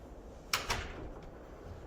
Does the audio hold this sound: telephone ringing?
no